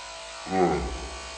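Electric razor shaving a beard, a brief buzzing hum swelling up midway and fading, close and moderately loud, with no talking.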